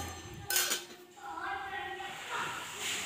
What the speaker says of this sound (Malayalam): പത്തിരിൻ്റെ ചട്ടി മാറ്റിയിട്ട്